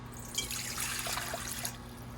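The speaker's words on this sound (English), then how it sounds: "So to the Biga, we're gonna add 400 grams of water, room temperature." Room-temperature water pours steadily into a biga starter for Neapolitan pizza dough, a soft splashing stream that lasts over a second and then stops.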